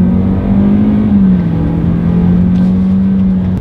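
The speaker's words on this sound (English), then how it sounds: "let's do a quick little acceleration here in the UX 200" A 2019 Lexus UX 200 accelerates in sport driving mode, its engine giving a steady, close drone that holds level and drifts only slightly in pitch, with no talk over it.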